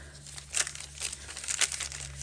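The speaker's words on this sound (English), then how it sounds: "I've got some nice crinkly paper" Crinkly paper, including a fold-out sheet, rustles and crackles as journal pages are handled, with several louder crinkling bursts over a low steady hum.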